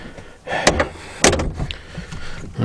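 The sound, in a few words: rear-hinged car door of Renault 4CV opening and closing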